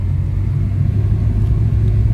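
An automatic car drives along with the driver's hands only on the wheel, giving a steady, close interior engine drone and road rumble that stays even throughout.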